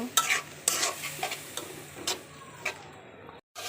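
Mango pieces and mixed spices for a puti fish curry are stirred in a pan, with a steady low sizzle broken by repeated close scraping strokes of a spoon, then a brief pause near the end.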